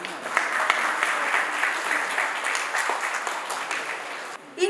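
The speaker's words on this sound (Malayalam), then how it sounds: "നിറഞ്ഞ കയ്യടികളോടെയും വേദിയിലേക്ക് ഹൃദയപൂർവ്വം സ്വാഗതം ചെയ്യുന്നു" An audience at the Basingstoke Cultural Fest inauguration applauds as a guest is welcomed onto the stage, dense sustained clapping from many hands that thins briefly near the end.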